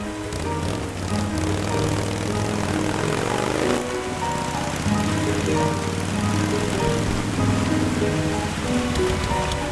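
Cartoon rain drums over a steady propeller aircraft drone, a loud continuous patter and engine hum running together throughout with no speech.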